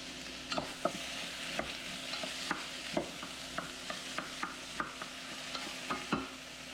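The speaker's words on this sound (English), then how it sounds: "Your potatoes, you want them in a hot pan so they will not stick. Potato, squash, everything goes in there." Loosely cut potatoes and squash frying in a hot pan for a summer stew, heard as a soft continuous sizzle with regular sharp spatula taps and stirring scrapes, close and unaccompanied by speech.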